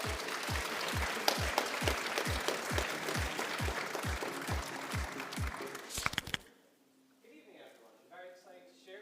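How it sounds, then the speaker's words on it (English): Applause welcoming a pitch team at a university startup showcase, moderate clapping with a regular beat of sharp, rhythmic claps that stops abruptly around six seconds, followed by a quiet voice speaking. "Give a big round of applause."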